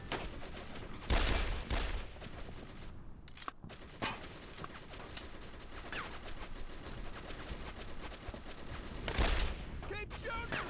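Rapid gunfire bursts from the World War II video game Brothers in Arms: D-Day, a close-quarters firefight with loud volleys near the start and end and steady shooting between, with shouted voices mixed in.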